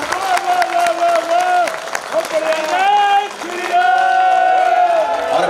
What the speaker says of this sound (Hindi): तालियां कम रह गई हैं विदिशा।